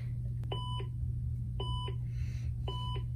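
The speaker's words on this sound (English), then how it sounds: "you know how the robots go beep beep beep beep beep beep beep beep beep beep" Robot beeping sound effect from a kids' coding kit: three evenly spaced electronic beeps, clear and close, over a steady low hum.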